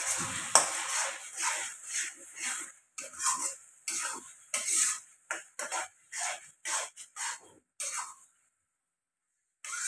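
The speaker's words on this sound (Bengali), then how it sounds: "ভাজা হচ্ছে।" Dhaba-style kaju masala is fried and stirred in a pan: a spoon scrapes in quick rhythmic strokes over a soft sizzle, each stroke a separate burst, before falling silent near the end.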